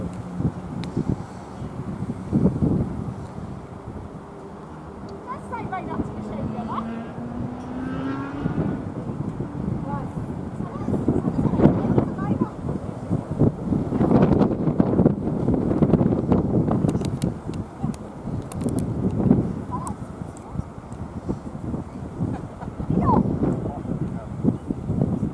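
Wind buffeting a microphone outdoors at Lake Garda, a rough rumbling roar that swells and fades under someone talking, with a passing engine drone.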